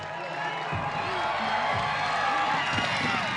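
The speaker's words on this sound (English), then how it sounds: "Listen to the crowd." A crowd at a Crankworx mountain bike slopestyle event in Whistler, Canada cheers and whoops in a loud, sustained roar, with scattered claps and shouts rising over the noise.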